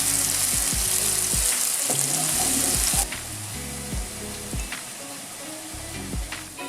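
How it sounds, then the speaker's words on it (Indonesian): Onions sautéing in two tablespoons of hot frying oil for a tuna onigiri filling, a steady bright sizzle with stirring scrapes, loud and close at first, then easing slightly but still crackling continuously. "kita tumis bawang bombay."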